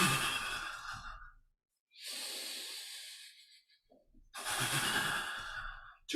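Slow, breathy exhalations during a qigong breathing exercise, three long airy breaths separated by short pauses, close and soft with no talking.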